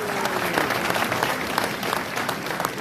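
Audience applause at a mayor's New Year address, a steady dense patter of many clapping hands filling the room, fairly loud and sustained with no speech over it.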